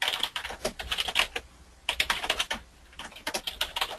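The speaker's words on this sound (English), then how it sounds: "whoever's typing, if you could hold off on that, I'd really appreciate it" Rapid, irregular keyboard typing in bursts, clicks clustering with short pauses between flurries, close and fairly loud with no voices over it.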